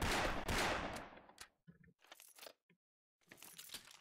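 Gunfire in the first-person shooter game Brick Force: a loud, dense burst of rapid shots at the start, then scattered shorter cracks and a final rattling burst, with gaps of silence between.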